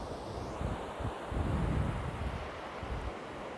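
Gentle surf rolls onto Manguinhos beach in Buzios in the early morning, a steady wash of moderate waves with a slight swell in the middle, mixed with wind rumble on the microphone and no voices.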